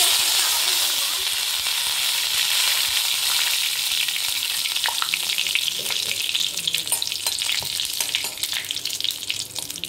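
Curry leaves fry in ghee in a pan, giving a loud, continuous close sizzle and crackle that stays steady throughout, with faint stirring scrapes.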